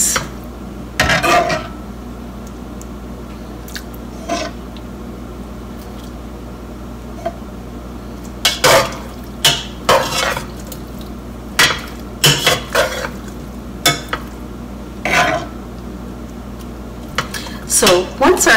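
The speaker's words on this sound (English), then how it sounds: "I'm going to mix the pasta together with the sauce" Pasta is stirred into sauce in a pan with a utensil, producing repeated scraping clatters and knocks against the metal in irregular bursts, close and fairly loud, with a steady background hum and pauses between strokes.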